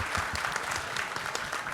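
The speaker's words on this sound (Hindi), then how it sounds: "एक बारी उनके लिए भी जोरदार तालियां बिग राउंड ऑफ हो जाए" Audience applause at a university event for a web series team, a brief burst of dense clapping from a crowd filling the clip at moderate loudness.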